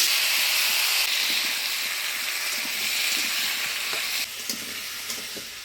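Raw pumpkin frying in oil seasoned with black cumin and dried chili produces a loud, continuous sizzle and hiss, with stirring scrapes and small clatters as the pieces are tossed in the pan.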